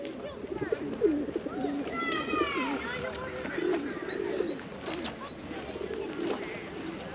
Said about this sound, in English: One comment on the pigeons